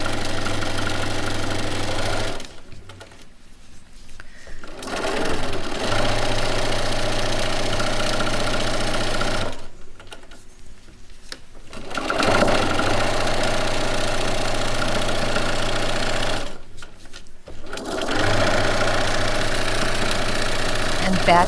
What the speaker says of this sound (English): Sew down the length.